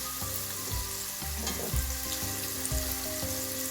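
Calamari pieces deep frying in hot oil until crispy, a loud, continuous crackling sizzle that carries on steadily throughout with no talking.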